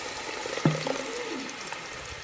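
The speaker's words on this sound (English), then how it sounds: "we're gonna pour our sauce in" Blended red enchilada sauce pours through a fine strainer into a pot with a little oil, giving a soft liquid splash and gentle trickle that starts abruptly and fades under faint background noise.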